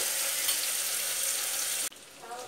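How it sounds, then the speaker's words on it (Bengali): Dried fish (shutki) frying in a pan, a steady loud hiss and sizzle that drops off abruptly near the end, then softer crackling resumes. "এবার এর মধ্যে আমি শুটকি মাছটা দিয়ে দিলাম, ভালো করে ভেজে নিই।"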